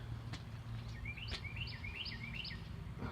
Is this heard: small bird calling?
yes